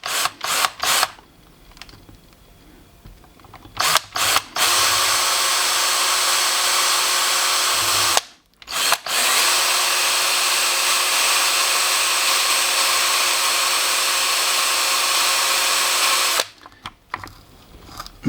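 A power drill with a 3mm bit bores a pilot hole during a stereo install in a Toyota 86 TRD 14R, a close steady whine in long runs broken by short pauses and restarts.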